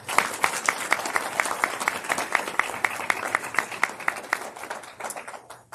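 Audience applause for a softball coach at an evening team gathering: steady, dense clapping from a crowd of people with sharp individual claps popping above it throughout, tapering slightly near the end.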